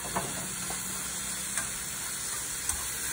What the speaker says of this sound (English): I want to saute this one first in my tomatoes, onions, ginger, garlic paste